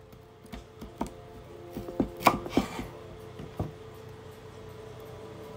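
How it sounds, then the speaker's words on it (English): A knife chops broccoli on a cutting board in a short run of sharp, close knocks, clustered and most intense in the middle of the stretch, then thinning out, with no speech. "So now I am about to cut up the broccoli."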